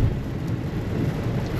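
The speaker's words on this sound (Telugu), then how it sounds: "ఫుల్ వర్షం" A heavy downpour falls steadily, a dense, even roar of rain with a low rumble beneath it, loud and unbroken with no voices.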